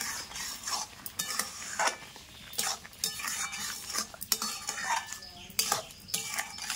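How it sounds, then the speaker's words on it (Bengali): Mango jelly chutney with sugar stirred in a pan at home, giving repeated scraping and clinking strokes of a spoon against the pan with a faint sizzle underneath, close and steady with no talking. "আর এখন কিন্তু ঘন ঘন নাড়াচাড়া করে নিতে হবে।"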